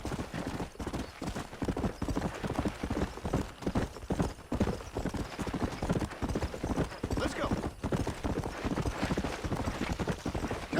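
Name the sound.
horse hooves in video game Red Dead Redemption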